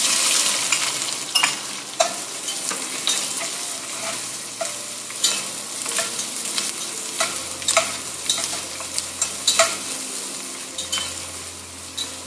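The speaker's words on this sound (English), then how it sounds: "let's go ahead and add the onions" Onions sizzle in a hot pan for a turkey kofta curry, a steady frying hiss broken by repeated scraping strokes of a stirring utensil, close and clear with no talking.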